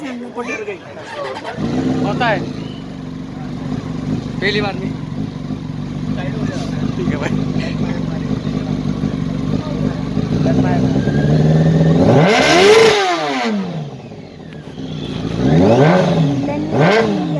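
Several motorcycles of different kinds rev their engines nearby at an outdoor gathering, a steady loud drone with sharp rising throttle blips near the end, while people talk over it.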